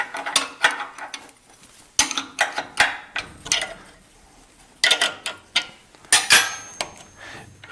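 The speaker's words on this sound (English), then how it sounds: "I can loosen one of those bolts and be able to pivot the fence." A wrench works a bolt on the underside of a resaw table to loosen it and free the fence to pivot. Close metallic clicks and clanks come in irregular clusters with short quiet gaps between them.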